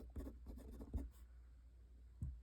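Lamy Studio fountain pen with a fine nib and Colorverse ink scratching across paper in a few quick strokes, then a pause and one more short stroke; very quiet and close.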